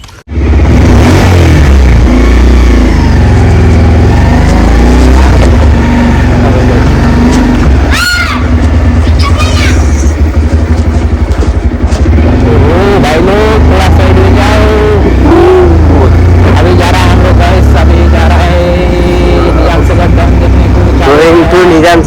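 A new motorbike ridden on an open road, its engine droning loud and close with rising and falling revs, and heavy wind buffeting throughout while someone talks over it.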